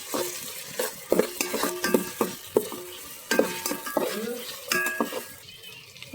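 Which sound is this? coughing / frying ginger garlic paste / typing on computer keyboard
frying ginger garlic paste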